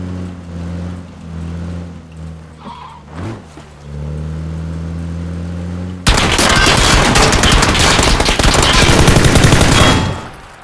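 Gunfire in the PUBG Battlegrounds video game during a solo match. A steady vehicle engine hum comes first, then a loud, dense burst of rapid shots lasts about four seconds before cutting off.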